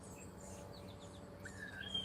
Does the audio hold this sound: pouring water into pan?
no